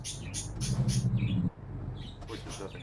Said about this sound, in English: You have to excuse the birds, they're going all crazy today.